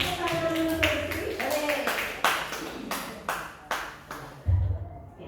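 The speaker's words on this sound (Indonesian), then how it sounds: "Tepuk tangan untuk Bu Sri." A few claps for a teacher, Bu Sri, during an Indonesian classroom presentation, sparse and uneven sharp hits, some brief and faint, with tonal sounds ringing early on.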